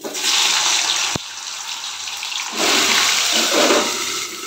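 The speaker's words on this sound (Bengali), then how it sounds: "এবার কচু আলুগুলো কাটা ছিল সেগুলোও দিয়ে দিচ্ছি।" Cut taro and potatoes drop into hot oil seasoned with bay leaf and cumin in a pan, giving a loud, steady sizzling hiss with a sharp tap and a surge of spattering partway through.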